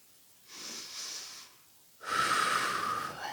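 Heavy breathing during a plank exercise: two loud close breaths, a shorter exhale followed by a longer, harsher, wheezy one.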